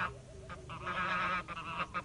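Geese on a permaculture farm give a run of nasal honks, moderately close, some calls overlapping, over a low outdoor rumble.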